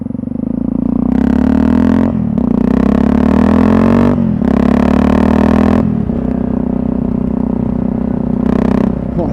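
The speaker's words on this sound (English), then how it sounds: "I reckon it's a bit louder than my bike" A Yamaha XT660Z Ténéré motorcycle engine revs repeatedly, each loud rising blip dropping back to a rough idle between bursts, close to the microphone.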